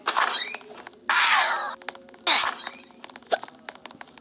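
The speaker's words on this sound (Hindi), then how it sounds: "हिचकी आ रही है भाई" Several sharp, high-pitched hiccup-like bursts from a person during a tense gaming session, spaced irregularly with faint clicks between them, close and fairly loud.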